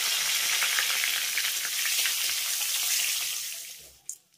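Radhuni spice seeds and two bay leaves sizzle steadily in hot oil, a dense close crackle that tapers off near the end, followed by a faint clink.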